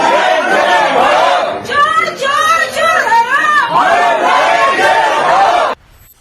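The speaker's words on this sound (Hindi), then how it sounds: "अरूप रॉय के लिए कंबल चोर और तिरपाल चोर के नारे लग रहे हैं।" A protest crowd outside a politician's house in Howrah, West Bengal chants anti-corruption slogans, loud and close, with many voices joined in rhythmic call-and-response shouts and whoops until it cuts off abruptly.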